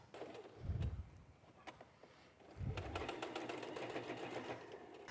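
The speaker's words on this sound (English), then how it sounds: "you're going to match these two ends on either side up and sew a 1/2-inch seam" A sewing machine stitches a half-inch seam in a travel organizer pouch, with two bursts of motor running: a short one early, then a longer steady run lasting several seconds, fairly close.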